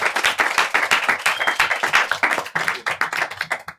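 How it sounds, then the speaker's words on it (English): A podcast audience clapping and applauding, dense rapid claps sustained throughout at close range, with no talk over it. "Let's get a round of applause for that."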